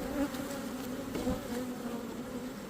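Honey bees buzz steadily during a beehive inspection, a dense, continuous drone close by with no talk over it.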